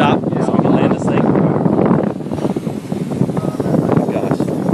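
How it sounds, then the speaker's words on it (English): Strong wind roars and buffets the microphone steadily throughout, with voices talking underneath. "It's so windy."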